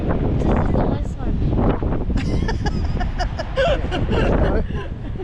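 Strong wind roars steadily across an outdoor microphone, a loud continuous buffeting rumble with gusty surges, while people talk faintly underneath.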